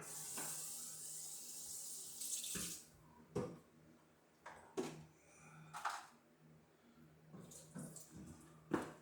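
Hot water runs from a tap in bursts, gushing and splashing briefly several times with quieter gaps between, close by, while rinsing home winemaking equipment.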